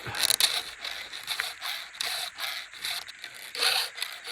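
A file hand-sharpening chainsaw teeth in a shop, rhythmic rasping strokes of metal on metal repeating every half second or so, close and fairly loud, with no talking.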